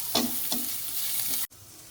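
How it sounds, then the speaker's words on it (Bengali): Garlic and chopped ginger frying lightly in a pan give a close, even sizzle with a couple of stirring strokes, then cut off sharply near the end. "এই দুটো আমি একটু হালকা ভাজা ভাজা মতো করবো"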